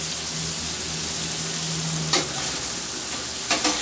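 Shrimp with fresh lemon juice sizzling on a teppanyaki griddle, a loud steady hiss with two sharp scraping clacks as the spatula tosses them.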